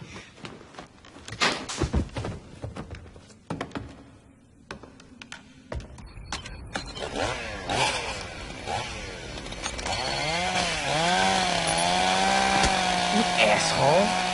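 Chainsaw sound effect revving and snarling, rising into a loud sustained whine after a few thumps and knocks, with people talking over it.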